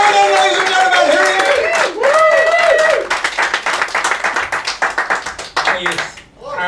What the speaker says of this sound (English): Start the applause going, ladies and gentlemen